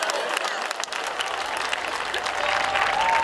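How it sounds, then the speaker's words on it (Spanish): Audience applause at a live variety show in Quart de Poblet's Barrio del Cristo, a steady wash of clapping from a crowd that swells slightly toward the end, with some voices mixed in. "Aplauso para mis compañeros y para Productos Churruca."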